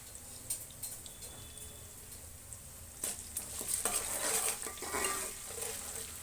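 Sliced onions fry in a hot oil tempering while a metal spoon scrapes and stirs them in the pan, a quiet sizzle broken by clinking, scraping strokes that grow busier toward the end.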